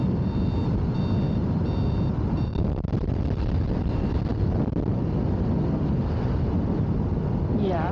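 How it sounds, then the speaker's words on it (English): Faint, short beeps repeat from a Commander Pro during a speed run at about 50 miles an hour, half buried under steady, roaring wind noise. "I'm definitely hearing some beeps"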